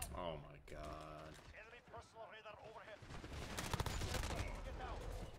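Gunfire in Call of Duty Modern Warfare: bursts of rapid shots and sharp cracks thicken toward the end, with the player's voice and game speech heard over and between the fire.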